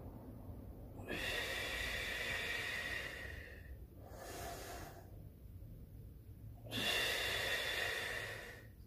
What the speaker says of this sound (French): Donc c'est ça, travailler la respiration ventrale.